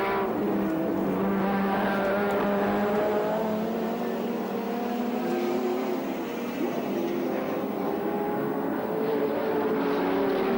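Touring race cars lap the Sandown circuit in the 1984 Australian Touring Car Championship round, engines wailing loudly and steadily at high revs, heard from trackside with no voices over the sustained roar.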